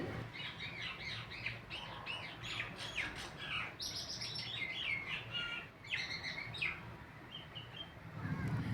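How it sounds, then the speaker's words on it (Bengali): Common myna birds call at a window nearby, a run of chattering chirps, squawks and whistled notes in quick bursts, fairly faint over low room hum. "শুনতে পাচ্ছ শালিকের ডাক?"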